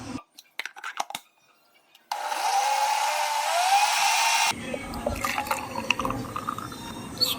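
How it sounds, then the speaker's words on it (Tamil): Water is poured into strawberry and yogurt for a buttermilk juice as a steady, rushing stream that fills a vessel for about two seconds. Light clinks of kitchenware come before it and clatter follows. "தண்ணி 400 ml வரைக்கும் தண்ணி ஊற்றுவான்."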